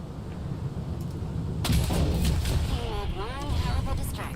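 Rocket assault fire in the SWTOR video game: a sudden burst of booming, gunfire-like blasts erupts partway in and rumbles on, with faint game voices underneath.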